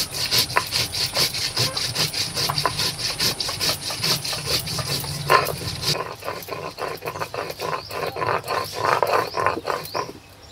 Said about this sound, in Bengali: শুকনো লঙ্কা ও গোটা জিরে একসঙ্গে বেটে নেব।